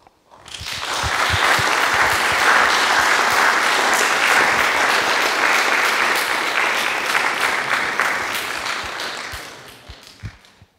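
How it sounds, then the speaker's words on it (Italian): An audience gives loud, sustained applause at the close of a philosophy lecture, building quickly, holding for several seconds, then thinning into a few last scattered claps. "Io ringrazio a nome del pubblico che vi ha già tributato con questo applauso finale"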